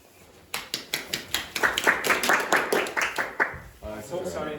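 Clapping in a classroom, a run of about a dozen sharp, evenly paced claps, close and loud, with voices talking around them.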